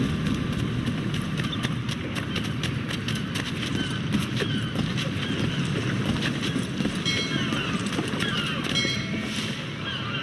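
Horse hooves clip-clop steadily on a street in Assassin's Creed III, a continuous rhythmic clatter with rumbling background noise throughout.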